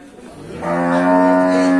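A cow lows loudly and close at a northern Thai cattle market, one drawn-out moo rising from a low grunt into a long sustained call, with no talking.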